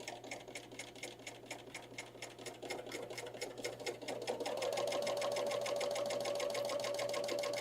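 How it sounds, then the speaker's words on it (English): A serger trims off the edge of fabric as it stitches a basic seam, a rapid, steady mechanical chatter that speeds up and settles into a continuous whirring run with a thin whine, close and clear. "I'm just lining up the very edge of that fabric with this guide right here for this serger, and I'm just going to trim off just a teeny bit"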